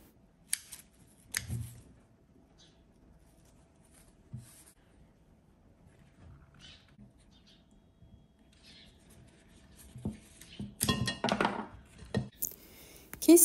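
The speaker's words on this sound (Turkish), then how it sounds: "Hemen çiçek dallarını kesiyorum." Scissors snip through orchid flower stems, a few sharp isolated cuts early on, then a denser cluster of close, crisp snips and handling clatter toward the end, fairly quiet overall.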